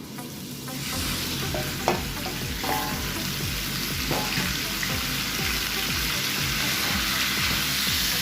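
Tenderloin beef strips frying in a pan, a steady loud sizzle with repeated scraping stir strokes in a regular rhythm and a few clanks of the utensil against the pan.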